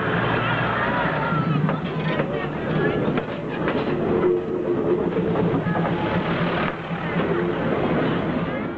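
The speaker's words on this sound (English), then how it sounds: "The train moves at just 19 miles per hour on average, giving those at the market plenty of time to move their goods." Train rolling slowly through a market at about 19 miles per hour, a steady rumbling clatter of rail cars with faint clickety-clack, mixed with murmuring crowd babble throughout.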